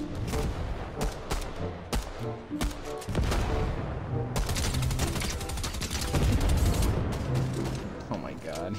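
Rapid gunfire in Fortnite Battle Royale, with repeated sharp close shots in bursts and dense volleys, mixed with voices talking over the action.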